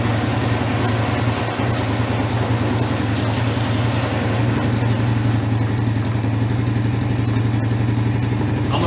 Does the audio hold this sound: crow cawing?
no